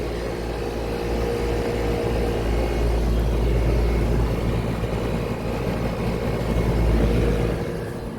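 An Interlink fan motor on a heat pump runs steadily outdoors among several heat pumps and air conditioners, giving a continuous low motor hum and rumble with a broad airy whoosh and no talk.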